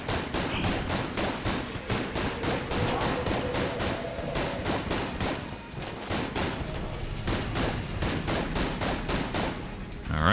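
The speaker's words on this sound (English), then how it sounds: "Let's get our shotgun of hate." Gunfire in the Enter the Gungeon video game during a boss fight with a shotgun, dense rapid bursts of shots repeating in a steady stream alongside game effects, no talking.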